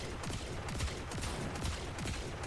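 Rapid repeated gunfire from a Catchmoon Kit-gun in Warframe, a dense burst of overlapping game shots and impacts running steadily throughout at moderate level, with no voice.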